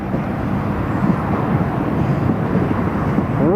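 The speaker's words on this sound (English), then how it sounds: "the C-27 just about to turn on the approach now" An Italian Air Force C-27J transport aircraft on approach to Newcastle International Airport produces a steady, broad engine roar with a wind-buffeted rumble, continuous and moderately loud.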